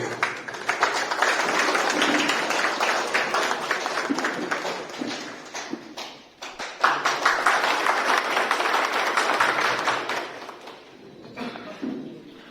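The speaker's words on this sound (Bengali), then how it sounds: "একটু জোর করে হাততালি হবে" An audience at a union gathering in Hooghly claps loudly and steadily to welcome the police station officer. The applause runs for about ten seconds, dips briefly, surges again, then tapers off.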